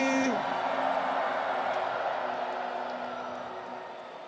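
A church congregation at an evangelistic service raises a broad, sustained shout of joy, a dense wash of voices that stays loud throughout and slowly eases toward the end, with a brief higher cry near the start.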